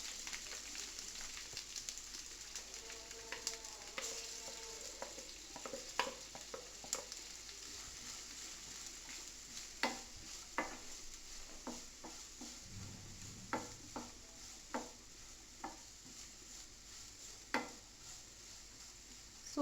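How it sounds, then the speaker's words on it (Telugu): Vegetables and beetroot fry in a pan, giving a soft steady sizzle broken by scattered clinks and scrapes of stirring, with no talking. "అవి వేగుతూ ఉండగా ఈ బీట్రూట్ని కూడా వేసేస్తున్నాను"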